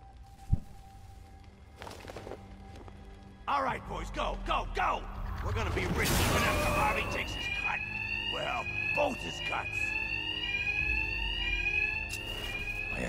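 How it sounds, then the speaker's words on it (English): An electronic alarm rings out in a Batman Arkham Knight game scene, a repeating high whooping tone that kicks in midway and persists under voices and game effects like a bank robbery alert. "Will be covered by the noise of the alarm."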